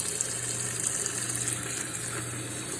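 Water runs steadily from a kitchen faucet into a sink in a continuous loud rushing stream with no breaks or talking.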